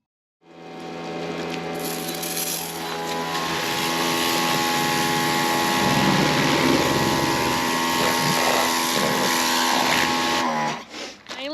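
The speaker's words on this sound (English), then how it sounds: "So first, we're going to get started with the power washing." A power washer sprays down the steel buckets of a Case backhoe loader to strip dirt and grime, a loud steady hiss and engine drone that starts abruptly and holds for several seconds before cutting off.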